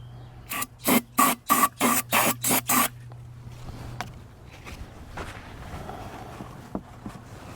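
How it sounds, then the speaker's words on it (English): Brake cleaner sprayed onto a Hyundai Palisade oil filter housing in a series of about eight short, sharp hissing bursts at close range, followed by quiet shop handling noises. "now we're going to go ahead and take our brake cleaner. Just go ahead and give it a spray down"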